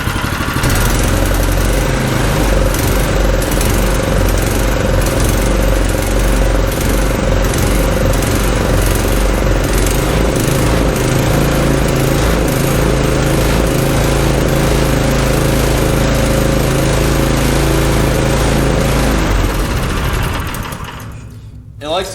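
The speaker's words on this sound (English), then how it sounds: "I got the engine started" A small engine runs steadily on full choke, a loud, continuous buzzing drone that holds for about twenty seconds before cutting out abruptly near the end.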